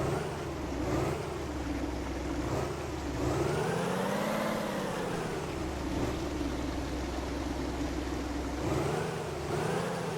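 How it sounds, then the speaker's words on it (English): Video game truck engine driving steadily, a continuous low rumble with rising and falling revs as it pulls out of a building onto a main road, loud and close with no talk. "let me carefully get this truck out of the building first and onto the main road"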